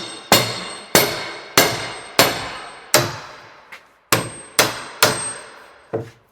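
A hammer strikes the hoops of a wooden cask while it is being raised, giving about nine sharp, ringing metallic clangs at a steady pace of roughly one every half second, close and loud with nothing else heard.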